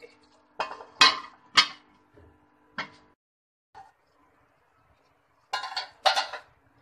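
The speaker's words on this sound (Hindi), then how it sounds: "तो इसको ढक देंगे हम, कवर करके रख देंगे।" A metal lid set onto a cooking pot of chicken bhuna: several sharp metallic clanks and clinks come close by in uneven bursts, separated by quiet gaps.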